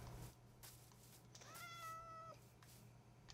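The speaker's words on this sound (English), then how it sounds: "There's a kitty cat." A cat in the video game Minecraft lets out one clear, faint meow lasting under a second, between soft clicks and quiet game sounds.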